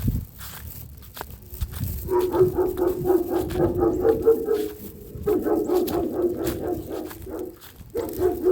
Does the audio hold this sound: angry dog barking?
yes